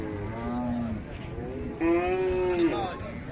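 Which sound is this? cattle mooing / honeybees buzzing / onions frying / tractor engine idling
cattle mooing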